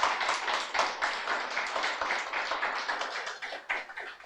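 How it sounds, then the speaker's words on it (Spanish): A church congregation claps steadily during a Spanish-language sermon, many hands striking in a dense, continuous patter at moderate loudness, with no talk over it. "Dele un aplauso al Señor si lo quiere aplaudir."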